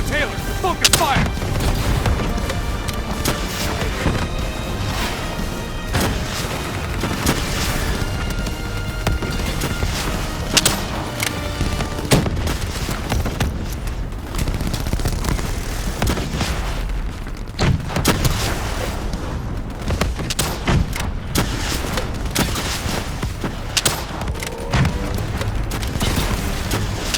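Dense gunfire and heavy booms fill a Call of Duty Black Ops 3 campaign battle, with rapid shots, explosions and mechanical clanks crowding together loudly and continuously, and voices calling out now and then.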